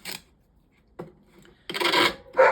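Hand sanding or filing on a copper ornament: a short scrape, a brief rasp about a second later, then a longer stretch of rough, close rubbing strokes with no talking.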